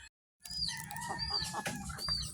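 Large-breed chickens, Brahma among them, cluck and call nearby on a small farm, a dense run of throaty clucks and rising squawks that starts after a brief silence and stays loud throughout.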